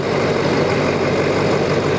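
A 725 hp 6.7L Powerstroke diesel truck engine idles with the hood open, giving a loud, steady, unbroken drone close by.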